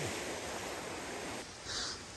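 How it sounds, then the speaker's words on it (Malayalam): Posadi Gumpe waterfall, a steady broadband rush of falling water heard close, constant throughout with a slight dip near the end. "പൊസടി കുമ്പേ വെള്ളച്ചാട്ടം"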